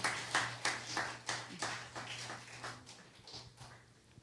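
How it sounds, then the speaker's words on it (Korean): Church members clap together during a welcome for new members, a rhythmic series of soft, moderately distant claps over a steady low hum. "요셉 회원분들께서도 같이 박수해 주시면 감사하겠습니다."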